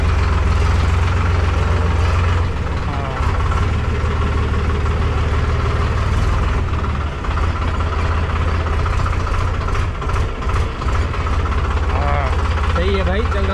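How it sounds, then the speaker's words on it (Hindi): Tractor engine idling and running in a village, a loud continuous low rumble with steady vibration throughout, with someone talking over it. "सही है भाई, चल रहा है, सही ट्रैक्टर चल रहा है"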